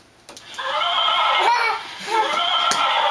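A toy horse gives a squeaky electronic neigh when its ear is squeezed, heard close in two bursts with brief quiet in between, over faint household background.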